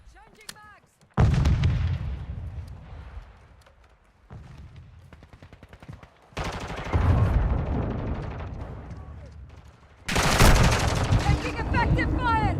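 Video game gunfire, heavy automatic bursts and booming shots arriving in loud waves between quieter gaps, close and intense, with shouted voices in between.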